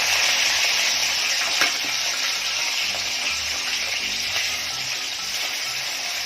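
Singi catfish pieces frying in hot oil for an Assamese curry, giving a steady, close, bright sizzle that runs without a break. Faint clinks and stirring sounds come through underneath.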